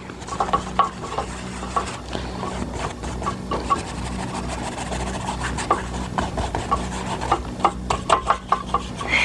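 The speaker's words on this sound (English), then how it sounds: "we're going to need to tighten up our easel just a little bit here, if we can, make that more sturdy" Wooden painting easel being tightened, with close, steady rubbing and creaking wood-on-wood friction and scattered sharp knocks and clicks throughout, no talking.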